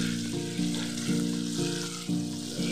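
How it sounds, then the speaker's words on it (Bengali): Tomato pieces with cumin frying on a low-medium flame, a steady sizzle under a periodic mechanical hum that pulses about every half second, no talking. "টমেটোর টুকরোগুলোকে একটু নরম হয়ে যাওয়া পর্যন্ত লো টু মিডিয়াম ফ্লেমে ভেজে নিলাম।"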